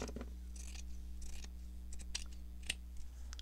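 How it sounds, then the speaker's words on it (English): Scissors snip through fabric for a junk journal craft project, several crisp close cuts at irregular intervals over a steady low hum, no talking. "I am going to cut a little bit of this away."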